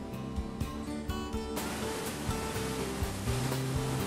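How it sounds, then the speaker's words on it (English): Water rushing onto the rotating fins of hydroelectric turbine runners, a dense roaring wash with a rumbling low end and some mechanical thumps, loud and continuous. "the water is directed onto the rotating fins of turbine runners like"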